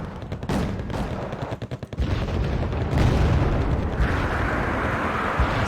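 Rapid autocannon fire and heavy explosions from Wargame: Red Dragon's armored combat against artillery units, a dense, loud barrage of repeated bursts and booms that continues throughout.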